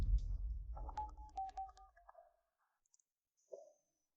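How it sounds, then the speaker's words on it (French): A telephone is dialed. A quick run of short beeping tones and clicks follows a brief rustle, then a pause and one last short tone, all quiet and close. "Appelle vite le professeur Zhao"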